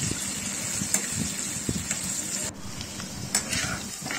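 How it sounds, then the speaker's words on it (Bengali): Chopped onions fry in hot oil for a prawn curry, a low steady sizzle running under occasional metallic scrapes and clinks of a spoon against the pan. "ওই তেলের মধ্যেই আমি পেঁয়াজ কুচো দিয়ে দিলাম, দিয়ে পেঁয়াজটা আমি ভাজা ভাজা করে নেব।"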